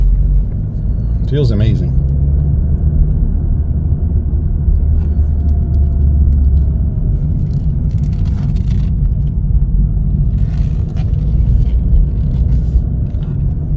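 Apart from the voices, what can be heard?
Chevrolet Cruze LT driving on a test drive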